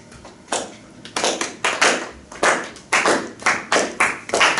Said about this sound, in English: Let's give oil a round of applause.